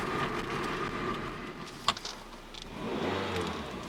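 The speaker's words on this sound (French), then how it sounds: "on sent bien que c'est une voiture qui aime rugir" Engine of a Toyota Celica T23 car roars steadily at high revs, loud and close, dipping briefly near the middle before building again toward the end.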